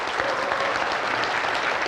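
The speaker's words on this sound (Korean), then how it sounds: "박수 한번 치세요." Audience at a regional representatives' leadership training session breaks into steady, dense applause, a continuous wash of many hands clapping at close range with no talk over it.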